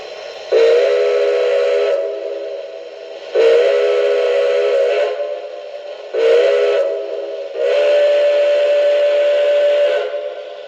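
Four loud blasts of a steam locomotive whistle, each a sustained chord of a couple of seconds, separated by short pauses; no voices.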